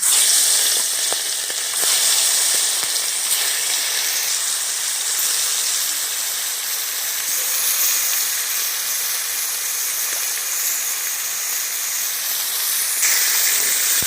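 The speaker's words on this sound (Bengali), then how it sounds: "এবার আমি মাছগুলো ভেজে নেব।" Loud, continuous sizzle and hiss of small kuche fish frying in a pan, bright and close, with faint stirring scrapes and no voices.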